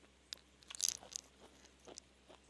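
Crunchy cooked haricots verts with caramelized shallots are chewed close up, a few crisp bites and soft mastication sounds over about two seconds, quiet and alone.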